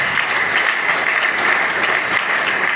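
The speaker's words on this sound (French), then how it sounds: "Est-ce que tu peux acclamer le Seigneur?" Congregation applauding and cheering in praise of the Lord during a night worship service led by a prophet, a dense, steady wash of clapping and crowd noise lasting without a break.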